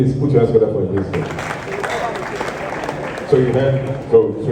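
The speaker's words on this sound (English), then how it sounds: "Please put your hands together for Elizabeth." An audience at a forex millionaire expo claps for a volunteer named Elizabeth, a few seconds of moderate applause breaking in over a host's voice, with talk before and after.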